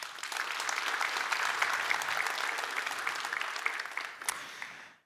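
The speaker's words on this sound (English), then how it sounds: "please give her a warm round of applause also" An audience claps warmly at a presentation on AI in mining, a dense, even burst of applause that holds steady for several seconds before quickly dying away.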